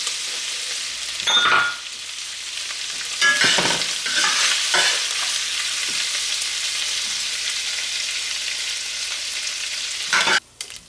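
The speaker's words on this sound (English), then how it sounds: "Once your chorizo is nice and brown, give it another stir" Chorizo browning in a frying pan, a steady close sizzle broken by several bursts of spoon scraping and stirring, with a brief sharp clatter near the end.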